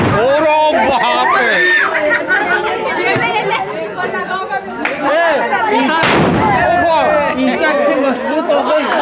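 Firecrackers bursting at a Ravan Dahan festival, with several sharp bangs and one big blast standing out over dense, loud crowd chatter and shouting.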